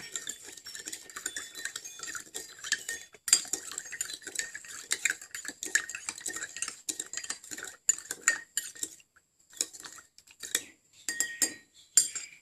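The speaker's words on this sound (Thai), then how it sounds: "เราก็ นำน้ำตาล ทรายแดง นะครับสองช้อน ผสมน้ำนะครับ" A metal spoon stirs brown sugar into water, clinking and scraping against the container in quick irregular bursts with brief pauses, close and fairly quiet.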